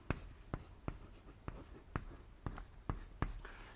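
Chalk taps and scrapes on a classroom board as a teacher writes the word insect, about eight crisp evenly spaced strokes, close and distinct with no talking.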